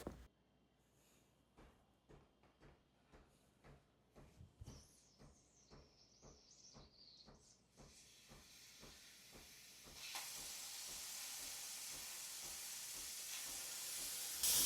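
A Breville Barista Express espresso machine pulses rhythmically, then its steam wand starts hissing faintly and builds into a loud, steady rushing hiss.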